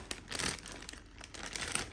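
Crinkly plastic packaging of a toy marble run set being cut open, giving close, quiet crackling and crumpling in irregular bursts with no talking.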